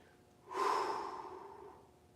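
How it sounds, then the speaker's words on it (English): A single deep, audible exhale during a live bodyweight workout, rising quickly and then trailing off slowly, close to the microphone in a quiet room. "get a couple deep breaths here"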